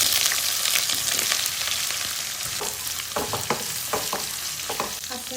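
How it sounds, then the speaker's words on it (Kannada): Onions sizzling in hot oil in a pan for beetroot palya, a continuous bright frying hiss with a run of clacking stirring strokes in the second half, close and with no talking. "ಸ್ವಲ್ಪ ಫ್ರೈ ಆಗಿದ ನಂತರ ಇದಕ್ಕೆ ಈರುಳ್ಳಿನ ಹಾಕ್ಕೊಳ್ಳೋಣ."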